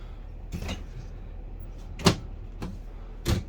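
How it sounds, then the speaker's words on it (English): Kitchen drawers in a Coachmen Prism motorhome slide and shut: a few separate soft knocks and thuds, with one sharper close, each short and fairly near over a low background hum. "A couple drawers."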